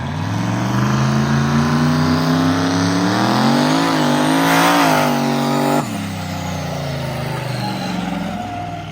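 Turbocharged mud mega truck engine running a new, longer gear set, revving hard as the loud rising roar climbs in pitch for several seconds, then drops sharply into a lower, steadier drone, with no voices.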